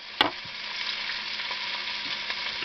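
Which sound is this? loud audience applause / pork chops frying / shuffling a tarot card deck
pork chops frying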